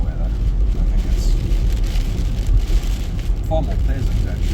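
Heavy rain pouring down steadily outdoors, a dense, loud, continuous hiss with low rumble and no talk.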